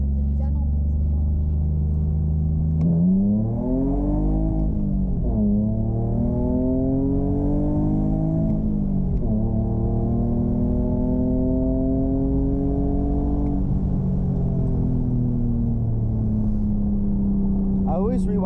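A BMW E46 drives fast down back roads, its engine droning loud and close as it revs up through rising harmonics, drops between gear shifts, and climbs again repeatedly under steady road rumble.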